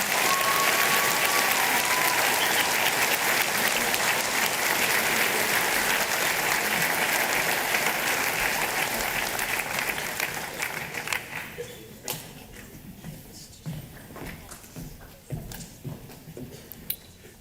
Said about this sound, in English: Can we all give our Year 12 graduates another round of applause?